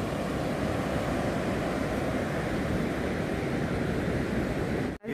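Sea surf rolls steadily onto Guhagar beach, a continuous loud wash of breaking waves with no voices, cutting off abruptly at the very end.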